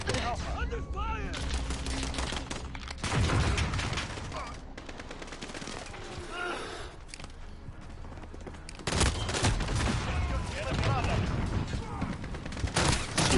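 Bursts of automatic gunfire in a Call of Duty Modern Warfare Domination match, rapid rattling volleys with short pauses and heavier stretches, mixed with in-game voices and callouts.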